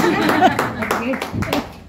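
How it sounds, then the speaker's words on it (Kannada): A group claps together at an ashtanga yoga gathering at a water park in Udupi, a brisk burst of close, overlapping hand claps mixed with voices and light laughter. "ಮತ್ತೆ ಬಾಳೆಹಣ್ಣು ಮತ್ತೆ ಆರೆಂಜು ನಾವು ತಂದಿದ್ದು, ನಮಗೊಂದು ಚಪ್ಪಾಳೆ."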